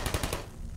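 Rapid automatic fire from a turret in the Portal video game: a quick burst of several sharp shots packed together in the first third of a second, then a fading noisy tail.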